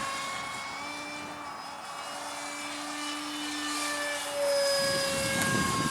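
A 1:26 scale radio-controlled Soviet Buran space shuttle propjet model flying at about 60% throttle, giving a loud steady whine with shifting tones that swells slightly toward the end, carried on outdoor wind.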